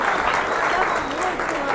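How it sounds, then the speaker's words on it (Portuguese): A crowd applauds at a political speech in the city of Santos, a dense, close burst of clapping with voices mixed in. "Mais palmas aqui, cara."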